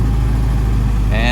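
1948 Willys Jeep CJ-2A engine running at a loud, close idle with a steady low rumble, a voice talking over it, and a rising whine as the jeep pulls away at the end.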